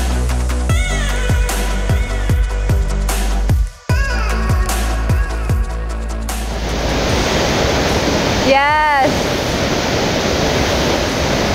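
A waterfall in Bali roars as a steady, broad wash of falling water that dominates the scene, with clicks and brief rhythmic noises cutting in early on before the rushing water continues alone.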